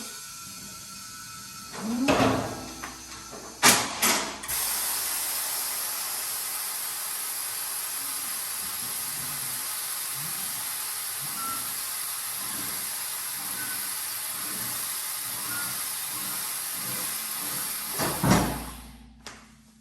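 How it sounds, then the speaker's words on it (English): An APlusLift MT1500 motorcycle lift lowers a bike as the air valve in its foot pedal releases: a loud, steady hiss of escaping air runs for about fourteen seconds, framed by a few metallic clunks at the start and end. "you kind of have to listen for the air valve in that foot pedal by ear"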